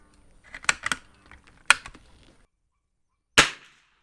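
Two sharp reports from subsonic rounds fired through a Savage 120A rifle, close and fairly muted, amid small clicks and handling noise, with a clear pause between the shots.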